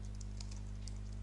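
Keys on a computer keyboard tapped in a quick, light run while an email address is entered, soft clicks over a steady low electrical hum.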